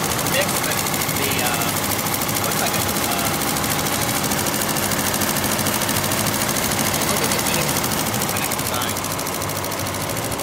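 A ZSK embroidery machine stitching 5 mm sequins mixed with outline cording runs at a fast, even mechanical clatter, a steady rapid chatter filling the whole stretch at a constant level.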